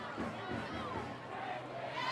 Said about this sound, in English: Habersham fans are booing now.